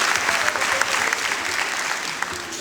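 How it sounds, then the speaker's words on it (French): An audience at a school ceremony in Dakar breaks into dense, sustained applause, many hands clapping evenly throughout the short stretch. "Donc je vous demande encore de préciser à travers des applaudissements."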